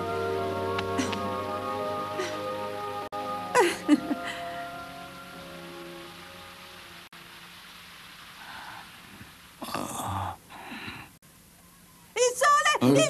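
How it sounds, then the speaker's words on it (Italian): Rain falls steadily as a soft, constant hiss beneath bursts of voices and music, with quieter stretches where the patter is heard more alone. "Ti prego, fa che smetta di piovere."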